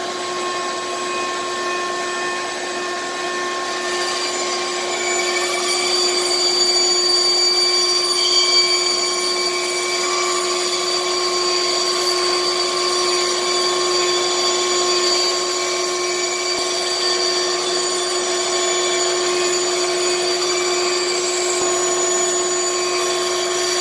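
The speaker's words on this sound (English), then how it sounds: "I'm going to turn on the shop vac and then we'll show you how we cut this out" A bandsaw cuts curved shapes from wood for a child's rocker while a shop vacuum runs, giving a steady, loud whine with a constant motor hum throughout and no talking.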